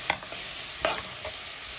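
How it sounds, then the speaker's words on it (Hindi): Onions frying in hot oil for a bean and potato curry, a soft continuous sizzle with a few brief stirring scrapes, close but quiet. "अब इसमें हम जब तेल गर्म हो जाएगा तो प्याज डाल लेंगे"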